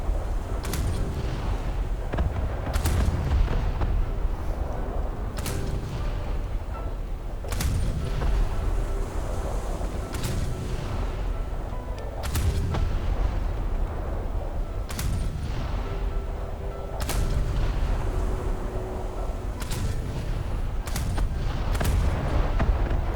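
Naval shells fire repeatedly from a warship in the War Thunder video game, sharp booms every few seconds over a steady, dense rumble of battle.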